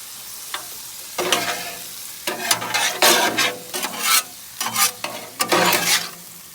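Beef lo mein tossed on a Blackstone griddle: a steady sizzle broken by repeated bursts of scraping and stirring, close and fairly loud, with no talking.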